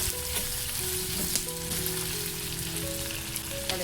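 Onions frying in oil in a pan for a bottle gourd dish, a steady close crackling sizzle with a few faint tonal clinks over the top, no voices.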